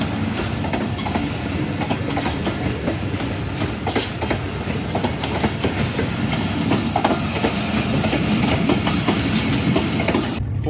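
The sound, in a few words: train passing at high speed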